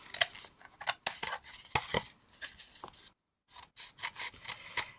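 A stiff, thick cardboard paper towel roll is opened lengthwise, giving close, crisp crackling and tearing bursts in an irregular rhythm with one brief silent gap.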